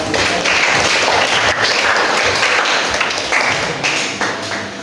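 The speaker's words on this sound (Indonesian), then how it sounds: "Beri aplaus kepada saudara." Students in an economics classroom applaud a classmate with dense, loud, continuous clapping from many hands close by, steady for several seconds.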